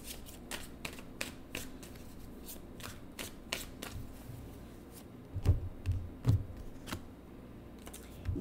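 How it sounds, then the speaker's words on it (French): Tarot cards being shuffled and drawn at a table: a run of quick, crisp riffling flicks for the first few seconds, then softer slides and a few duller taps as cards are pulled and laid down, close and fairly quiet, with no talking. "Je vais aller chercher 2 cartes"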